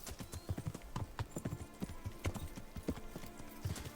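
Horse hooves clip-clop steadily in Kingdom Come: Deliverance, a quick regular walking rhythm of close, distinct strikes with no talk.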